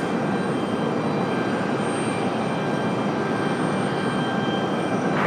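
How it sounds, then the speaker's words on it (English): A CRJ regional jet departs from Raleigh-Durham International Airport, its loud, even engine roar holding steady for several seconds with no voices in the foreground. "So we get a CRJ departure."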